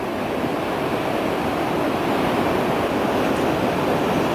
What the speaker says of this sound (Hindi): गोदावरी नदी में बाढ़ आ गई है और नदी का जलस्तर खतरे के निशान से ऊपर बह रहा है।